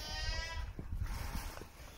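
Goats on a farm bleat loudly and close by, one long wavering cry followed by rougher overlapping bleats from the herd.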